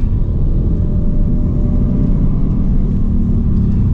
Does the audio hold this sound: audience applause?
no